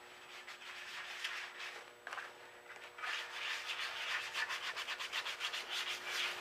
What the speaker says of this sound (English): Here we have stage two of the sanding, and it's getting smoother and smoother as we go.